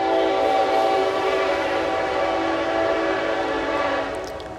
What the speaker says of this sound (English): We live by a train also.